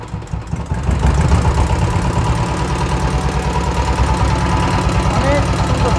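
An old EM185 8.5 hp diesel engine fires up from quieter sound and settles into a loud, close, rhythmic knocking idle with a steady thumping pulse, a voice briefly heard near the start.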